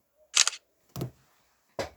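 Three crisp camera shutter clicks, spaced unevenly and fairly close, snap out of an otherwise quiet room.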